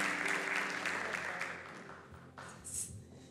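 Applause from a church congregation at a pastoral ordination, welcoming Mirta, a steady wash of clapping that tapers off near the end, with a faint voice underneath.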